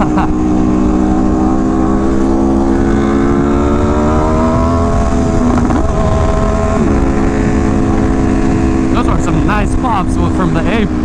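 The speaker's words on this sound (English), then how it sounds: "Now I sure do hear the H2." A Kawasaki H2 motorcycle engine drones steadily at a distance, its pitch rising and falling with throttle beneath constant loud wind or road noise, with a voice talking over it briefly.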